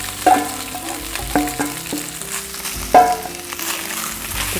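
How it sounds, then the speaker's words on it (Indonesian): Shredded tuna fried with red and green chili in a pan being stirred, with repeated scraping strokes and clinks of a utensil over a low, continuous sizzle, close and clear. "Kita aduk-aduk."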